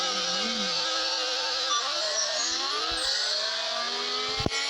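A Mark 4 Volkswagen engine revs in a racing video game, its buzzy whine climbing and dipping through gear changes, steady and alone, ending with a sharp click.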